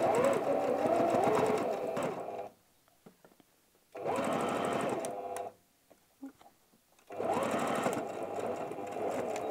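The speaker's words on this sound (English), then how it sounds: "Just going to secure that with a back stitch." A sewing machine stitches fabric for a tablet cover, including a back stitch, in three bursts of fast whirring needle chatter separated by short quiet pauses with small handling clicks, close by with no voices.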